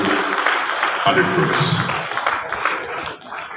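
Audience applause at the Bangalore Tech Summit 2021 IT exports awards ceremony, a steady wash of clapping throughout with someone speaking over it.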